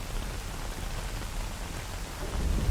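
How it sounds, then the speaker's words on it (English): Steady rain falls with a low thunder rumble swelling near the end, in the video game S.T.A.L.K.E.R. Anomaly, a continuous moderate wash of rainfall without voices. "Let's get in, out of the rain."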